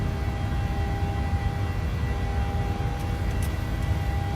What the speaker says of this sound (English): Did it sound like my engine's just kind of like stalled out there for a sec?